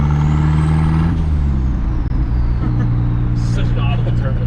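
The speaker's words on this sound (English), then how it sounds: "Such an audible turbo sound." A turbocharged Nissan Hardbody pickup drives along, its engine droning loudly with a rising and falling turbo whistle over the rumble, and a short hiss of turbo release near the end.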